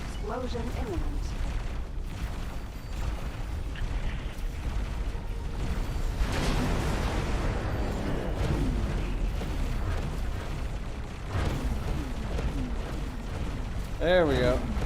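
Explosions and heavy booms in the X4: Foundations space game, rolling and crackling loudly through most of the stretch, with someone talking over the blasts.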